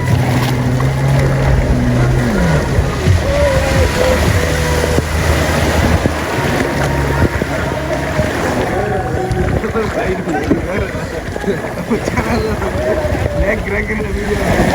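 A jet ski ride on the open sea at Pasikudah, Sri Lanka, with a steady engine drone, water rushing against the hull and wind buffeting the microphone, continuous and loud throughout.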